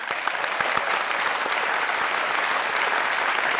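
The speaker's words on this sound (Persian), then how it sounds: "کف بزنید به افتخار رفیقایتان" A studio audience at a television entertainment show claps enthusiastically, producing dense, sustained applause at a steady loud level from start to finish.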